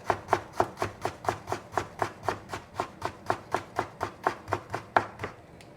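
Knife chopping ginger into julienne strips on a board, a steady rapid series of about twenty crisp close taps in even rhythm, alone with no talk.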